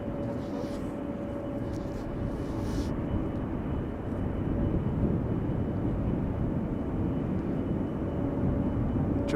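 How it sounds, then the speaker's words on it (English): A United Airlines Boeing 777-200 at Amsterdam Schiphol rumbles from a distance, a steady low jet roar that slowly swells with a faint engine whine, heard alone without talk. "the next airplane is already coming this way. United Airlines Flight 21 to Houston."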